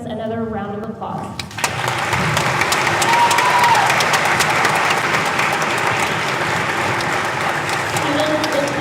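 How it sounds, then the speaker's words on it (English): A school assembly crowd of students and teachers applauds veterans at a Veterans Day gathering, steady dense clapping that swells after a brief spoken line at the start and holds loud through the rest. "let's give our veterans another round of applause"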